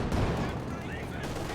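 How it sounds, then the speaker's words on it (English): A Katyusha rocket artillery launcher fires in Company of Heroes 2, giving a sharp burst of launch blasts at the start followed by a softer rushing trail. "the Katyusha fires regardless"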